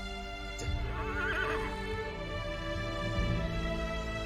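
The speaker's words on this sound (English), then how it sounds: "lets out a neigh. That almost sounds like laughter." A horse neighs loudly and close by, a long wavering whinny with a laughing quality, over a steady background with a faint clip-clop of hooves.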